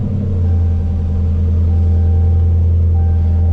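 Dodge Charger or Challenger engine idling just after an oil change, a steady, deep low rumble close by with an even, unchanging idle throughout.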